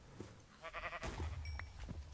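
Sheep and other livestock in a modded Minecraft world, a couple of brief wavering bleats mixed with soft game clicks and a low hum, close and quiet, with no speech.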